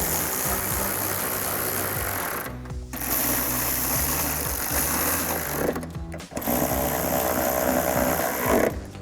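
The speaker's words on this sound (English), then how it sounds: "We'll grab a ratchet, extension, 10mm socket," A ratchet with an extension and 10mm socket tightens headlight bolts on a 2004-2008 Ford F-150, giving a loud, steady mechanical whirring that runs almost continuously with two brief pauses.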